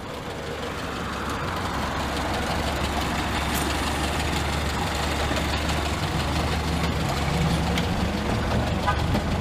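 1968 Morris Minor 1000 engine idling steadily after a hand-crank start, a continuous low rumble throughout with faint background noise.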